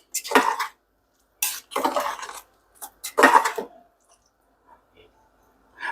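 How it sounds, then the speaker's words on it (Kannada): Coriander leaves being mixed into rice bath in a pot: bursts of metal spoon scraping and clinking against the pot, irregular and close, with pauses between strokes and a few faint taps near the end. "ಇವೆರಡನ್ನು ಹಾಕಿ ಒಂದು ಸರಿ ಮಿಕ್ಸ್ ಮಾಡಿಬಿಡೋಣ"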